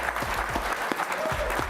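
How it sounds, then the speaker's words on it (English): Audience applause at a NASA aviation prize award ceremony, a steady sustained wash of many hands clapping from a large crowd with faint voices underneath. "Please give them your applause."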